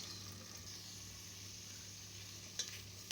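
Onion sizzles and is stirred in a pan for a chicken tinola dinner, a quiet steady frying hiss with a couple of faint utensil clinks near the end.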